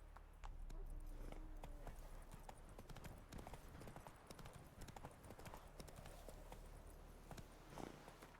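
Roach, Geralt's horse in The Witcher 3, clops along at a walk, the hoofbeats close and distinct over a low ambient hum, with a faint voice now and then.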